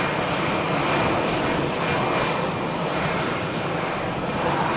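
An EasyJet jet airliner at Malaga Airport on a stormy morning gives a continuous, loud, broadband engine roar with a low rumbling base, steady throughout, with no talk over it.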